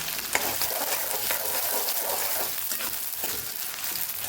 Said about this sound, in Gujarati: ડુંગળીને સરસ આપણે સાતળી લેવાની છે